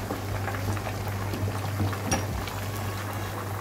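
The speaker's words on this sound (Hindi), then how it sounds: "इसको मैंने दूसरा साइड फ्राई किया है।" Chicken tikka fries in a pan, turned to its second side, with garlic and ginger about to go in, making a steady, moderate crackling sizzle with scattered pops and a low hum underneath, with no talking.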